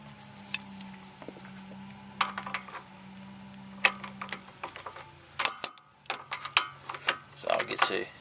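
A ratchet loosens a 14mm brake caliper bolt on the front brakes of a Toyota Tarago/Previa/Estima (TCR). Close, quiet clicks and clanks come in irregular bursts over a low background hum.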